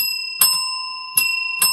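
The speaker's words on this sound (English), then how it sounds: "Do our bells sound like they're tuned differently?" Small handheld bells ring three times, each strike a bright, clear metallic ding with a long sustained ringing tone that lingers between hits, close and alone.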